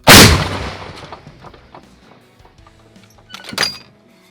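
A loud, sharp M119 howitzer blast opens and decays into a rumbling echo, followed by a second softer boom a few seconds later.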